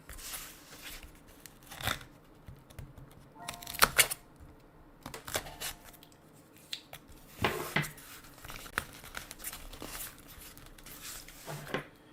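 Box of PSA-graded Pokemon cards being opened up close, with a run of crisp tearing, snipping and crinkling packaging sounds and plastic taps spread across the stretch, no talk.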